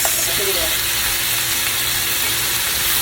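Onions and carrots fry in a pan with a little cayenne, giving a steady, loud broadband sizzle and crackle that holds for the whole moment without talk.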